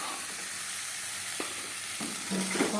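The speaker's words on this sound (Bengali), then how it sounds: "ভালো করে কষিয়ে নিয়ে তারপরে জল দেবো।" Green peas and masala fry in a pan, giving a steady broadband sizzle with a few scraping stirs toward the end.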